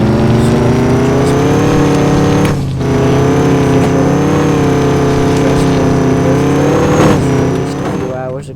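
Jurassic Park Jeep in the Offroad Outlaws video game mud bogging, a steady loud engine drone with rising and falling harmonics throughout, a brief dip near the middle, voices faintly audible beneath.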